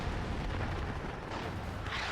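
Heavy artillery explosions in the real-time strategy game WARNO, a dense, continuous rumble of low booms blending together at moderate loudness, with no voices.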